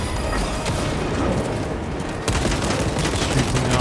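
Heavy gunfire during a Space Marine 2 campaign mission, a loud, unbroken rattle of rapid shots that gets sharper and louder partway through.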